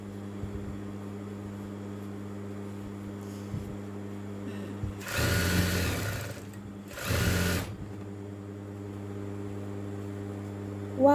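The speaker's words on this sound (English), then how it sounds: "So now I'm starting to sew straight lines on the cap." A sewing machine stitches straight lines on a padded foam hijab cap in two loud bursts of whirring, about two and a half seconds each, with a steady background hum between them.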